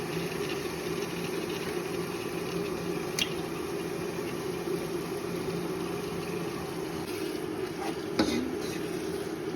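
Mutton added to spicy masala in a pan, frying with a steady close sizzle and soft stirring scrapes and squelches, plus a couple of sharp clinks.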